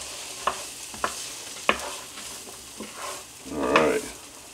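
Onions sizzling in a pan over medium heat, a quiet steady hiss with a few sharp clicks of a utensil and a louder burst of frying near the end, with no talk.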